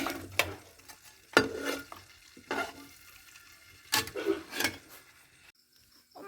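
Fish frying in a pan gives a faint, steady sizzle broken by several sharp scrapes and clinks of a utensil against the pan.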